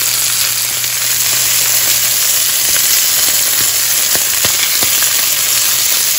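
A New York strip steak sizzles steadily while being reverse seared, a close, loud, continuous frying hiss with scattered sharp pops and crackles and no talking.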